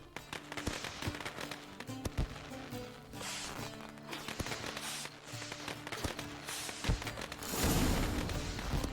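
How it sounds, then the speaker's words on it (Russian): Fireworks burst and crackle in a steady string of sharp pops and thumps over a continuous din, set in the video game The Witcher 3: Wild Hunt. "О, салют."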